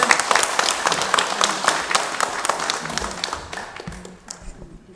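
Church congregation at a Sunday service applauding to welcome a visiting pastor, a dense, lively round of clapping that thins and fades toward the end.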